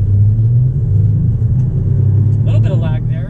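A 2019 Ford F-150 XLT Sport rolls slowly on the interstate with a loud, steady engine rumble, building briefly toward the end, heard from inside the cab.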